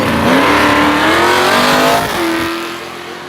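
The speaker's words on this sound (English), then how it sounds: "Brendan Meisner on the tower side here, second generation racer, running his Mustang" A Ford Mustang drag car launches at a heads-up race, its engine roaring loud and close as it accelerates hard and rises in pitch, then fades slightly.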